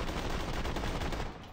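Rapid rifle fire in a video game, a dense, continuous stream of loud shots running together across the whole moment before easing slightly at the end.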